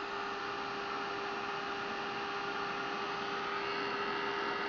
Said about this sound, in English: what if we heat dry that?